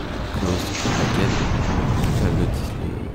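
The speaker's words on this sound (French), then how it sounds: "le train est parti dans le canon" A train cannon launch in a Space Mountain Mission 2 ride simulation game comes as a dense, loud rumbling whoosh with booming bursts that roll on for several seconds amid ride music and ambience.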